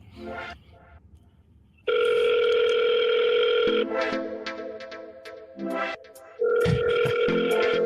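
A steady electronic ringback tone sounds in long, loud bursts with pauses between them, as on a phone call waiting to be answered.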